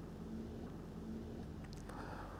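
An Italian Fiat car driving past, heard faint and distant as a low engine hum with a slight rise in revs, alone without talk.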